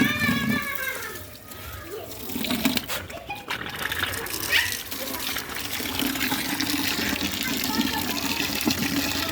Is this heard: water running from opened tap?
yes